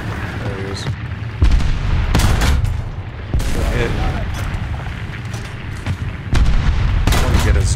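Tank cannon fire in War Thunder from an A13 Mk I tank in a ground battle, several loud booming shots spaced a second or two apart over rumbling engine and battle noise, with a voice talking underneath.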